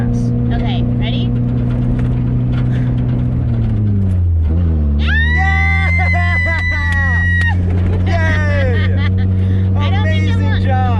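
A Mazda Miata prerunner pulls away offroad after a gear change, its engine note dipping then steadily droning under loud, excited voices and screaming inside the car.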